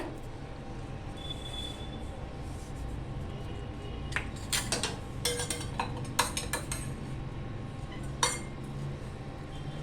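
A spoon stirs Malvani-style black pea usal in a cooking pot, making scattered metallic clinks and scrapes against the pot's rim over a low steady background hum.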